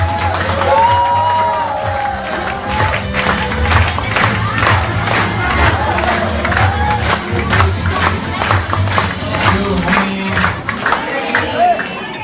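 Audience clapping and cheering for a company vice president at a leadership training session; a dense, steady wash of many hands with whoops rising over it, lasting throughout with a voice briefly carrying through.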